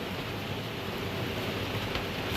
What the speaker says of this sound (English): We didn't know it was going to be a downpour.